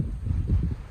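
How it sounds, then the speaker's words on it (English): Low, rumbling wind buffeting a microphone outdoors, steady gusty roar with surges, no speech. "it's a little breezy and windy outside, and I ain't got a good mic"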